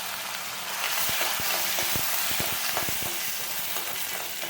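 Peanuts, dried red chillies and curry leaves fry in hot oil for tamarind rice, a continuous soft sizzle broken by sharp scraping clicks of stirring in the pan, close and without talk.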